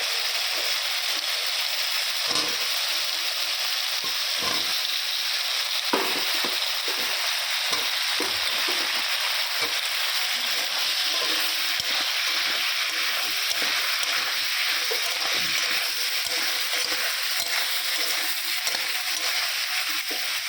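Ginger paste and green chilies fry in a pan, giving a steady, close, loud sizzle with faint stirring scrapes now and then, and no talking.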